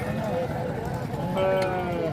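Small sheep bleat at a livestock market in Dera Ghazi Khan, with a few calls rising over steady crowd noise and men bargaining close by.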